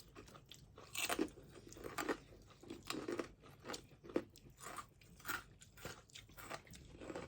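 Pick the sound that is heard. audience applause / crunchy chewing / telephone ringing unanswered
crunchy chewing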